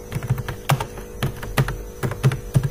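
Quick bursts of keystrokes on a computer keyboard while C++ code is typed, close and crisp, with uneven clicks and thunks over a faint mains hum; no voices.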